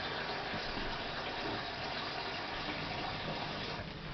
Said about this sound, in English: I'm just going to go ahead and top that up with a little bit of hot out the tap